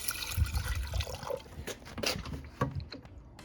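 Dilute nitric acid being poured while refining vintage gold scrap, heard as soft liquid splashing and trickling in a few uneven bursts, faint and close, with no talking.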